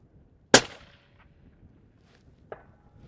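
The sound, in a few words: 300 PRC rifle firing Hornady 225 grain ELD-M ammo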